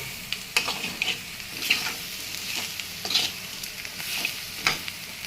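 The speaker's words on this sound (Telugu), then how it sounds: "ఆ కారంలో బాగా బాగా కారం కలిసేటట్టుగా పెట్టుకోవాలి" Green beans with garlic and chili powder are stirred in a frying pan, giving a soft continuous sizzle under repeated scraping strokes of the spoon.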